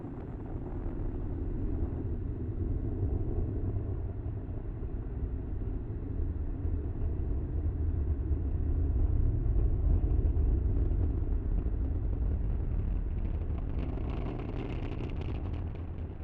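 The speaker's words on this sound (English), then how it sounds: "Falcon 9 has successfully lifted off." Sustained deep roar of a SpaceX Falcon 9 rocket lifting off with a Starlink satellite batch, a steady loud low rumble throughout that swells slightly midway, with a faint crackle toward the end and no talk.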